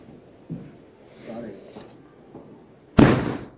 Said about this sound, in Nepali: बम पड्का न है बम पड्का छिटो